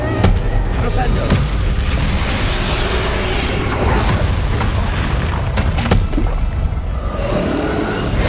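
In the Hogwarts Legacy video game, a Flipendo spell unleashes heavy booming blasts and rumbling impacts amid a busy battle soundscape, with loud bursts stacking over a constant low roar.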